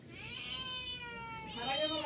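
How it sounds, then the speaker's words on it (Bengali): A black cat and a white cat wait for food at a restaurant and meow in two drawn-out, close calls, the second louder and rising, with a voice speaking softly underneath. "মিউমিউ করছে।"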